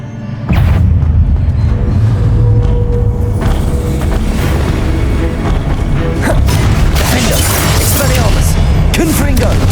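Confringo explosion spell cast against statues in Hogwarts Legacy. It hits as a sudden loud boom, followed by rumbling, creaking and crashing stone debris that keeps going for several seconds, with a voice shouting briefly.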